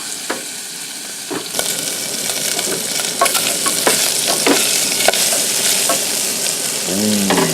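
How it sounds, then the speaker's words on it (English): Merriam's wild turkey giblets fry with Cajun seasoning in a pan, giving a loud, continuous close sizzle broken by irregular stirring scrapes and pops. A brief voice is heard right at the end. "Finish them up in light fry and they're gonna be good to go."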